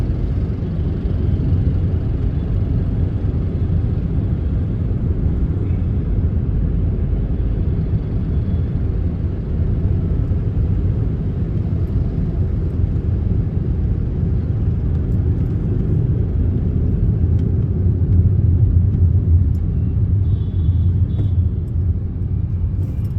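A car creeping along in second gear through slow morning traffic in Gurgaon, giving a low, steady in-cabin rumble and road hum that stays even, with faint passing vehicles and no talking.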